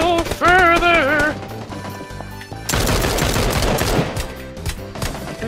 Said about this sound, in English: And now I'm shooting.